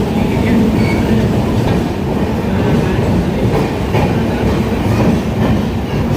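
The 12423 Rajdhani Express rolls into a station in India, loud and close, with a steady rumble and clatter of wheels and carriages passing throughout.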